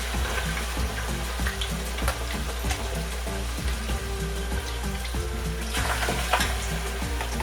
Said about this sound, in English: After that oil is nice and hot, we start putting the chicken in,